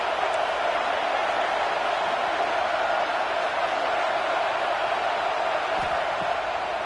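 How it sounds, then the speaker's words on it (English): A football stadium crowd roars in a steady, broad wash of cheering and noise at a college game, continuous and unbroken, with a commentator faintly audible beneath. "This crowd bringing the energy and noise early."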